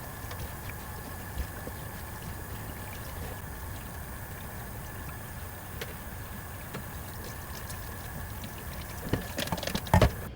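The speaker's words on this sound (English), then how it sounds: "we're gonna gently wash it to get any of the mites or any bugs, dirt, dust, all that good stuff off" Passion flowers being gently rinsed in water: a steady, even splashing patter throughout, close and moderately loud, with a few louder handling clatters near the end.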